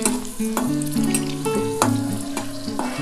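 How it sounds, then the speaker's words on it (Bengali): Panch phoron and dried red chillies fry in hot oil, a loud, continuous sizzle and crackle with occasional sharper pops and spatters, close up and without talk. "পাঁচফোড়ন আর শুকনো লঙ্কা আমার ভাজা হয়ে গেছে"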